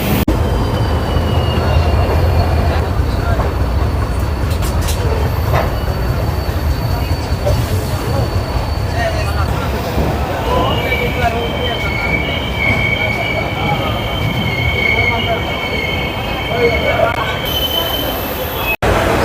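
The Guwahati–Sairang Express passenger train rumbles loudly and steadily along the rails in northeast India, heard from on board, with metallic wheel squeals ringing out over the continuous roar.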